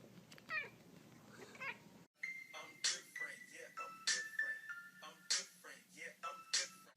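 A cat meows repeatedly, with several short, sharp meows at close range following a stretch of quieter background sound.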